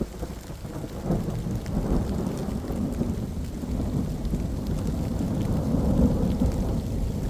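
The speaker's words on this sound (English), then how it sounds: "You guys can hear that rain, eh?" Heavy rain pours over a cemetery in Niagara-on-the-Lake, a dense continuous hiss with low rumbles of thunder rolling underneath, loud and close throughout.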